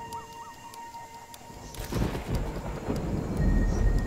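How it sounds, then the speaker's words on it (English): Thunder rumbles in over a Singapore jungle, a quiet stretch with faint birdsong giving way to a loud, broad roar of thunder and steady rain that builds to the end. "A storm is brewing."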